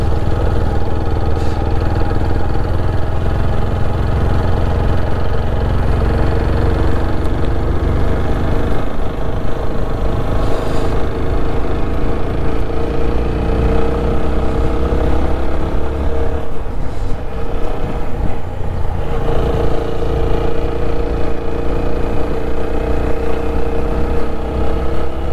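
Suzuki Intruder motorcycle engine running steadily, a loud continuous throbbing rumble close by with slight pitch shifts and no talking.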